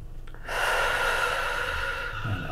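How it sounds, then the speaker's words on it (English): A patient draws a slow, deep breath during a chiropractic stretch for scoliosis. The airy inhale is close and fairly quiet, with no talk. "I want you to do some nice deep breathing."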